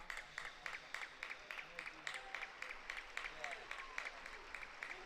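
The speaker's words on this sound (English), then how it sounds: "Receives a small applause around the far side of the stadium" Scattered applause from a distant crowd on the far side of a stadium at a women's football match, light and patchy, with a steady murmur of background noise beneath it.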